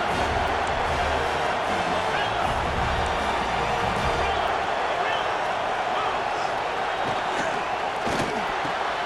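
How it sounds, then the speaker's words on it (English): Stadium crowd in the video game EA Sports College Football 26 roaring in a steady dense wash, loud and sustained throughout with no breaks, with commentary voices blended in. "And this crowd is deafening, trying to will the stop."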